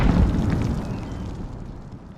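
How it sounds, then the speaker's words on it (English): A grenade blast in a team deathmatch shooter game: one loud, deep boom at the start that rumbles and slowly fades over about two seconds, with no talking. "Throwing grenade."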